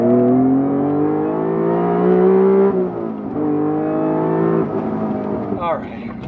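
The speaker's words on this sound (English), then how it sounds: "It's still got that high revving VTEC howl" A supercharged Honda NSX VTEC engine revs high and steady with a rising harmonic howl, dipping around a downshift before climbing again, loud and close throughout.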